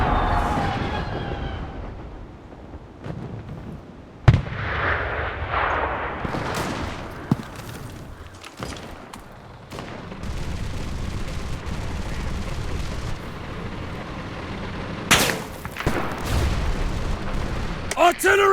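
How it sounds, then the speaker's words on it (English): An artillery barrage in the World War II shooter Enlisted: repeated loud booming blasts and gunfire bursts over a long stretch, with heavy rumbling between impacts and battlefield noise throughout. "Artillery! Fire at the square!"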